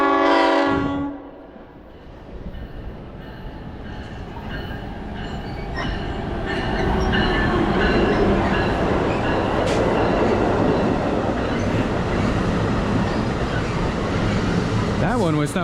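A New Jersey Transit train on the North Jersey Coast Line pulls into Middletown station, a swelling rumble of wheels and engine with a horn blast, close and loud, while a person briefly talks at the start.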